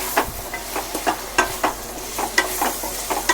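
A utensil stirs and scrapes through food in a cooking pot after salt and turmeric go in, with steady repeated strokes over a low sizzle on a medium-low gas flame, close and fairly loud.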